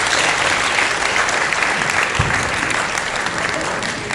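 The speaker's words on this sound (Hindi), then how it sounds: "इनके लिए जोरदार तालियां बजनी चाहिए।" A hall audience at an evening music tribute claps loudly and steadily, a dense, continuous burst of applause that fills the room without pause.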